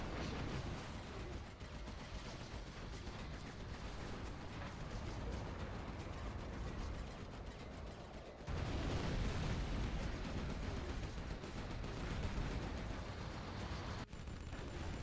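Dense, continuous battlefield din of rapid cannon fire and explosions from a Gatling cannon in the real-time strategy game C&C Generals Zero Hour, loud and unbroken with a sharper surge partway through, no talking.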